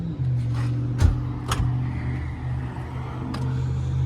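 A 502 big-block V8 in a 1971 Chevelle idles with a steady, deep rumble, with a few sharp knocks and thumps nearby.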